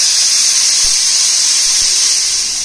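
Pressure cooker cooking lentils on a stove, venting a steady, loud, close hiss of steam without a break and with no voices.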